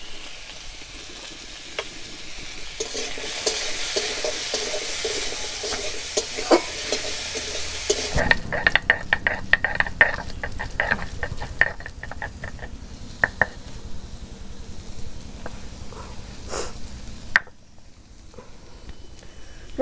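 Potatoes with turmeric sizzle in a hot pan while a spatula stirs them, giving a steady frying hiss with scraping and clinking strokes. The sizzle is loud at first, then eases into busier, softer stirring, with no one talking.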